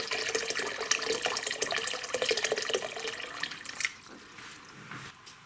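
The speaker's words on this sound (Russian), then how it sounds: "Я добавляю кипяченую горячую воду из чайника." Hot boiled water pours from a kettle into a bucket of cool filtered water, a steady, fairly soft splashing stream for about four seconds that then tapers off.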